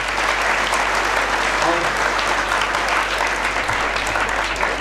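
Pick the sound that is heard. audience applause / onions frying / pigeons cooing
audience applause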